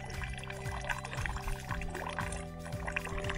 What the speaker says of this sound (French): c'est un filet d'eau!